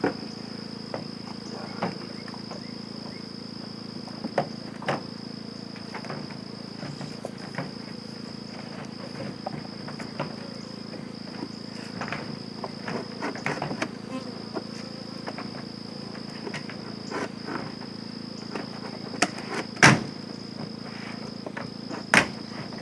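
Honey bees buzz steadily around hive frames, a constant close droning hum with scattered clicks and knocks from handling the frames.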